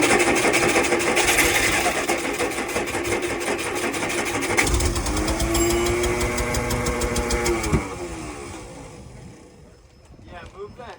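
Vintage Baja race boat engine running in neutral with the prop still spinning, loud and close, its pitch rising and falling as the throttle is adjusted, then easing down near the end; voices talk over it.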